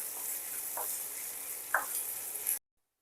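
Garlic cloves and ginger pieces frying lightly in oil in a pan, giving a steady soft sizzle with a couple of brief stirring scrapes, close and continuous, no talking.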